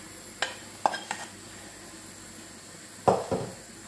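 A spoon clinks and scrapes through lentils and coconut curry in a pot, with a few sharp stirring knocks early on and two more near the end over a quiet simmer.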